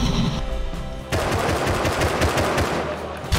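Machine gun fire in a video game bursts in loud and fast after a sustained tone, a rapid rattling stream of shots that continues to the end with no voices.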